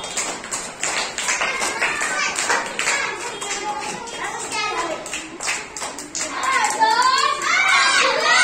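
Children in a second-grade classroom clap in quick, sharp bursts, the rapid claps mixing with young voices talking and calling out close by.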